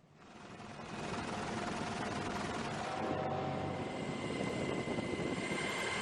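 A US military helicopter hovering above the Iranian-flagged oil tanker MT Celestial, a steady loud rotor and engine drone that rises within the first second and holds throughout, with no talk.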